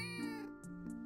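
Pet cat in the video game Fields of Mistria giving a few short, close, clear meows in quick succession over soft, steady game music.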